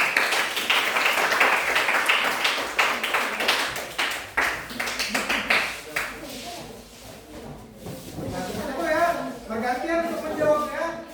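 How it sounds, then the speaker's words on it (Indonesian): A classroom of students claps for a presenting group, a burst of quick scattered clapping that tapers off after several seconds into chatter and voices talking. "Tepuk tangan untuk kelompok 2."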